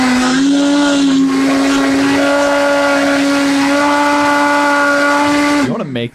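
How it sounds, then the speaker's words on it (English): A blender whirs loudly and steadily while mixing salted cabbage juice, a sustained high motor whine that holds for several seconds before winding down abruptly at the end. "Like it's going in a blender."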